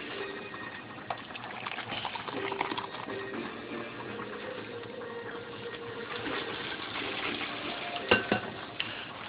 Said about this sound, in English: Got our mixture here, transferring it over to the pan.